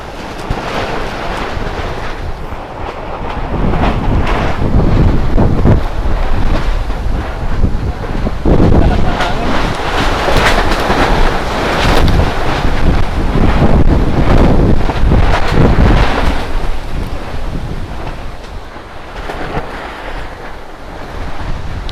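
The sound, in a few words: strong wind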